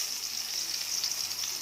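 Hot oil in a pan, readied for frying eggplant, gives off a steady, close, high hiss and sizzle. It stays even and continuous with no talking.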